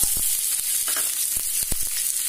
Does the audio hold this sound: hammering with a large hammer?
no